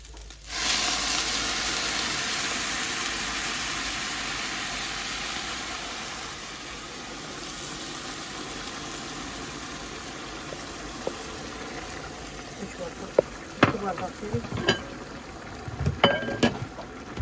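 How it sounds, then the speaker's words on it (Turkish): Browned butter sizzles loudly in a pan for iftar cooking, then boiling water is poured in, bringing bursts of crackling and spattering toward the end; no talking. "Şimdi tereyağımızı böyle kavurduk. Şöyle kaynar su ilave edeceğim."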